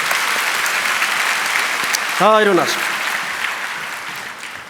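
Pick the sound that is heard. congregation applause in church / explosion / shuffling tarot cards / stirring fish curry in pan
congregation applause in church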